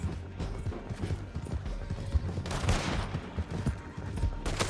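Galloping horse hooves mixed with bursts of gunfire during a shootout in Red Dead Redemption II, rapid rhythmic clopping under repeated gunshots at a moderate distance.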